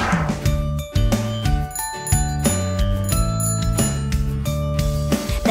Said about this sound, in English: The bell of the cycle goes tring, tring, tring, all through the town.